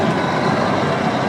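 A Mack truck's diesel engine droning loud and close after dropping down a couple of gears, a steady heavy rumble while rolling around a corner.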